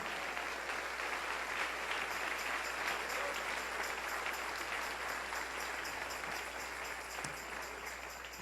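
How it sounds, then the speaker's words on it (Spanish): A church congregation applauding during a Sunday morning service, steady sustained clapping from a large crowd that holds at an even level throughout. "Denle ese aplauso al Rey en esta mañana."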